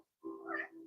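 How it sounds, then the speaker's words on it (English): A cat meows at a door, one drawn-out, fairly quiet cry with a rising then falling tone, heard alone. "So do you guys hear Milo? He's talking at the door"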